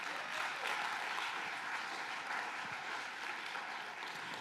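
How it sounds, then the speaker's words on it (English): An audience at a tech keynote in Los Angeles gives a round of applause, steady dense clapping from a sizable crowd heard at an even level throughout. "so please give them all a round of applause as well"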